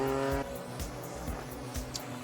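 A BMW M4 GT race car in number 81 runs on a circuit during GT qualifying in Thailand, its engine note roaring loudly and steadily with brief tyre squeal, heard alone without talk.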